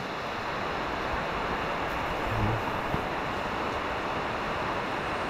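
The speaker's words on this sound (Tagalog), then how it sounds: "Ayan na naman ang ulan" Steady, dense hiss of heavy typhoon rain falling, a broad continuous wash of noise with no distinct drops, constant in level throughout.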